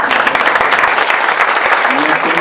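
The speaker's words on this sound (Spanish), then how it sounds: "un aplauso" A dense wash of applause fills a room at a book presentation, loud and steady throughout, with voices mixed in beneath the clapping.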